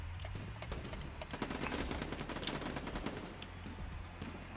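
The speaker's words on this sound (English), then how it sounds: "I hit one rifle shot and I miss. I hit one pistol shot and then I have backup." Rapid rifle and pistol gunfire in the Quantum League video game, with dense overlapping shots and sharp cracks running steadily throughout at moderate loudness.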